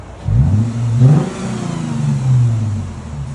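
Revving of a 2013 Lexus GS 350 3.5L V6 with factory resonators still fitted: a loud rising and falling rev, a second swell and a long settling drone, with no talking.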